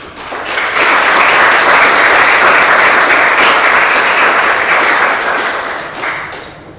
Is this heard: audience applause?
yes